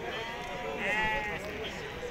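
A sheep bleats at a livestock market, one wavering drawn-out cry rising over steady crowd murmur and background voices.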